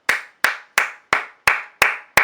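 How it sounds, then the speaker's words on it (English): Seven crisp hand claps land one after another at a steady, slow, even beat, each ringing briefly in a reverberant room before the next; no voices. "can we give an applause?"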